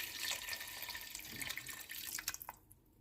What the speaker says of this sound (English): so now we are going to pour our water in. I have a quart jar here to start with.